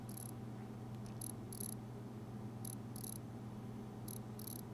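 Croaking clicks from a Jerkmaster fishing lure with a flat paint job, sounding in short high bursts at irregular intervals over a steady low hum, with no voices.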